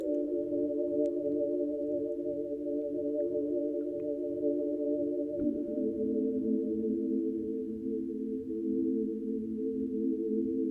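A sustained dark ambient synth chord layer from the Kill September Opia bank, pitched up an octave, holds steady with a slow pulsing underneath and a subtle shift in voicing midway, alone and without talk.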